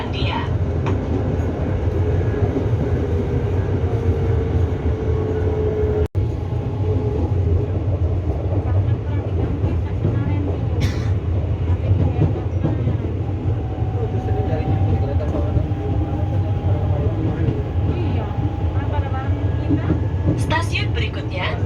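Steady, loud rumble and rattle from inside an electric commuter train riding through Jakarta, continuous throughout, with a few faint high squeals and voices in the carriage.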